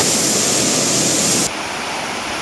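A small river flowing at Leuwi Hejo in Sentul, a loud, steady broadband rush of water that drops abruptly to a softer wash partway through, no voices.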